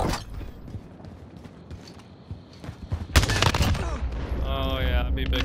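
Gunfire in Call of Duty: Modern Warfare during a hardcore match in the Superstore map, low ambient rumble broken by a sudden burst of loud shots and mechanical clatter, followed by a rising electronic whine.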